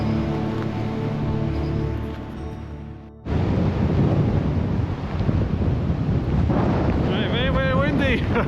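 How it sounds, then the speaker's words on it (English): Strong wind on a Scottish hilltop roars and buffets the microphone in a steady rush, with a brief lull before it surges back loud and continuous. "Very windy."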